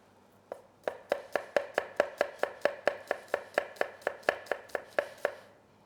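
A knife finely chopping a raw ingredient for a panzanella salad on a cutting board: about twenty crisp, evenly spaced strokes in a steady rhythm, close and clear with no talking.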